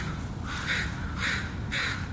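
Black crows give three harsh caws in a spaced series, each about half a second apart, moderately loud above a low hiss of background noise.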